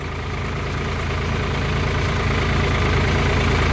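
Indo Farm 3048 DI tractor engine running with cage wheels for muddy field work, a steady loud low idling rumble with a knocking diesel beat throughout, close and continuous with no talk.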